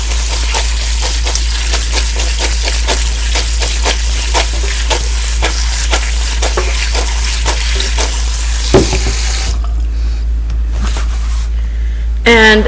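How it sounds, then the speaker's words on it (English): Canned beans being rinsed under running water for chili, a steady splashing wash that runs for most of the clip before cutting off abruptly near the end, with a person speaking over it. "So I'm just rinsing it out."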